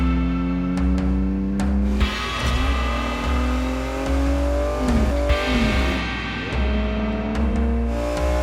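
A 1962 Ferrari 250 GTO race car, chassis 3413, revs close and loud, its engine note climbing and falling through several sustained pulls with no voices over it.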